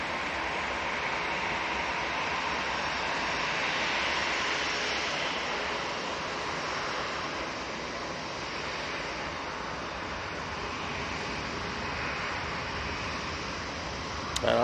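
An aircraft at Manchester Airport during early morning arrivals and departures makes a broad, continuous engine roar that swells slightly and then stays steady at a distance for the whole stretch.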